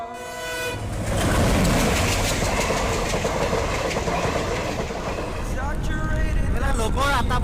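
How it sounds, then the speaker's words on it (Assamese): A train rolls past near Khoiyabari town, a loud, steady rumble that fills the whole clip, with horn toots sounding close at the start and again near the end. "ট্ৰেইন আহিছে"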